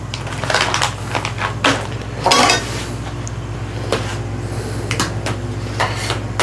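A spoon stirs a brewing pot of pumpkin ale, making scattered clinks and scrapes against the metal pot over a steady low burner hum.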